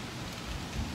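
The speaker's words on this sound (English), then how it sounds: "Ooh, here comes the rain." Steady rain falling, a dense hissing wash of drops on surfaces with a low rumble underneath, continuous and fairly close, with no voices.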